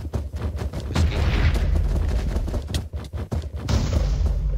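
Paintball guns firing in a video game: a run of sharp pops and thumps, some in quick bursts and some spaced apart, punchy and close, with brief lulls between volleys and no speech.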